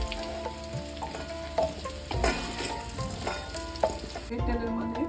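Potatoes fry in hot oil, a steady close sizzle with bubbling crackle and occasional scraping stirs, no voices.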